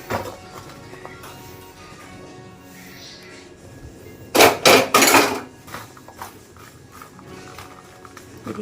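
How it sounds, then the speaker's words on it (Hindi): Makhana mixture poured onto a ghee-greased steel plate gives a quick burst of clattering metallic scrapes and knocks midway through, surrounded by softer handling noises in a quiet kitchen. "अब जल्दी से इसको ना एक थाली में गिरा देंगे।"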